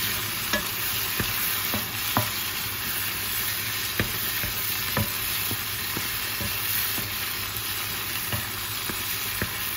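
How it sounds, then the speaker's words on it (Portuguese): Squid fries in a pan with two or three bay leaves and chopped garlic, a constant loud sizzle under irregular clicks and scrapes of a utensil stirring, close up, with no talking. "Vou colocar duas folhinhas ou três de louro e um bocadinho de alho picado. Agora vou mexer."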